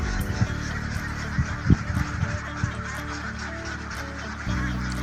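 Honking waterfowl on a duck farm during hot weather, several loud calls in a cluster near the start and scattered quieter calls after, over a steady background din.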